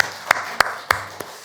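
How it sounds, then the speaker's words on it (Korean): A church congregation at a Korean Sunday worship service claps in welcome. Four sharp, evenly spaced claps come about a third of a second apart, and the last one is fainter. "박수로 환영합니다"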